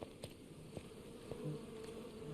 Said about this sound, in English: Ah, the bees.